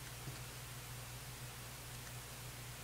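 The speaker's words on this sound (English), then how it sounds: "Some nice pink noise." A television in a horror video game hisses with pink noise static, a steady, unbroken, even wash of noise with a low hum beneath it, quiet and unchanging throughout.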